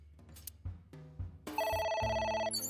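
A phone rings in the AI: The Somnium Files video game, a bright electronic ringtone that starts after a few soft musical tones and continues steadily, close and clear with no talk.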